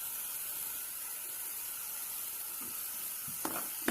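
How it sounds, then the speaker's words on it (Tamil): Ginger garlic paste hits hot oil with softened, fried onions, giving a steady close sizzle with a few sharp spatter pops near the end. "இப்போ இதில் வந்து இஞ்சி பூண்டு பேஸ்ட் ஒரு டேபிள் ஸ்பூன் அளவுக்கு நான் சேர்த்துக்கிறேன்"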